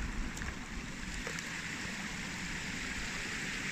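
A mountain stream in the Strandzha range runs in a continuous soft wash of flowing water, faint and steady, with no voices.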